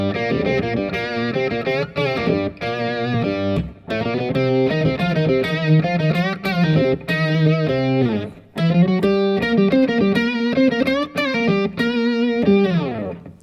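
An electric guitar is played low like a bass through distortion, heard alone as a loud, buzzing, sustained line of notes with brief pauses between phrases.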